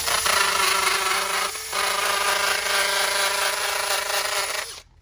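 A cordless drill grinds and rubs steadily against a Cummins engine deck, scrubbing away leftover head gasket material; the abrasive whir runs close and continuous with one brief dip, then cuts off near the end.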